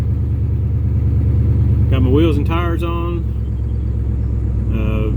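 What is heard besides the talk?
1968 Ford Galaxie car engine running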